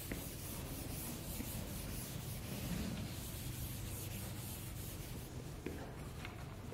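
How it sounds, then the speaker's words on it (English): Chalk or eraser rubbing writing off a lecture board, a steady continuous scrubbing that runs throughout, close and fairly loud with no talk over it. "so I'm going to rub this off."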